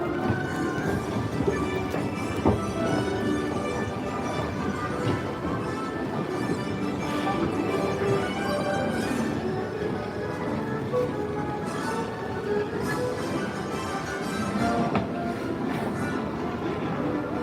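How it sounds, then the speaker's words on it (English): A tram at Universal Studios Hollywood rolls along rails with a continuous rumbling hum and faint clicks, steady throughout, with murmured voices in the background. "Hope you guys enjoy the tram ride."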